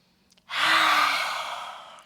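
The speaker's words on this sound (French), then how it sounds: "vous sortez la langue en expirant de manière assez brutale et bruyante" A single forceful, noisy breath pushed out with the tongue extended during a yoga exercise, loud and close, starting sharply and fading over about a second and a half.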